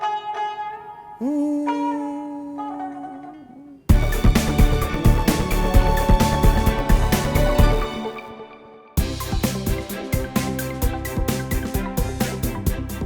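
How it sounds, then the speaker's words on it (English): An Azerbaijani tar, a traditional string instrument, starts with a few sustained, ringing notes, then breaks into dense, fast plucked melody with steady rhythmic strikes, loud and close, pausing briefly before resuming. "And here is the tar."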